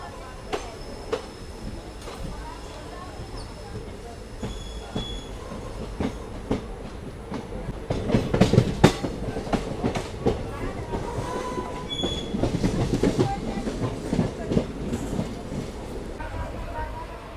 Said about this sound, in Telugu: లింగంపల్లి నుంచి అయితే డిపార్ట్ అయింది మన ట్రైన్.